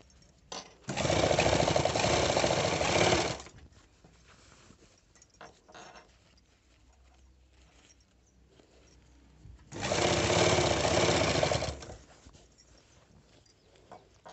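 A sewing machine stitches a shirt collar in two bursts of rapid, rattling mechanical running, each about two to three seconds long, separated by a quiet pause with faint handling sounds.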